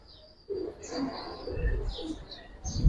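Giribaj and military pigeons cooing close by in a loft, soft repeated coos among chirps and rustling, with a few low thumps of movement.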